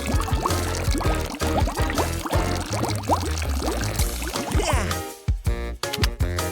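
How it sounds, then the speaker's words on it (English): A homemade cleaning concoction is poured out in a continuous, bubbling stream that gurgles and splashes, heard under loud, bouncy background music before the flow tapers off near the end. "Now let's pour out our special concoction."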